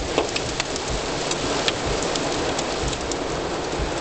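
Dense, heavy rain in Quebec City drumming steadily on a surface, a constant loud hiss with a few sharper drops standing out.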